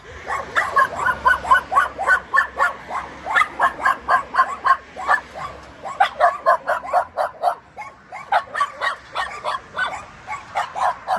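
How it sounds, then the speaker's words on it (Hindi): A dog in a Romanian village barks continuously in quick, rhythmic bursts, loud and close, with some yipping and whimpering mixed in, and no talk over it. "कुत्ता भी आबि गेल छै।"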